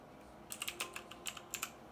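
Typing on a white MOTOSPEED CK62 mechanical keyboard with Outemu Blue switches: a quick burst of about eight crisp, clicky keystrokes at close range, alone and with no talk.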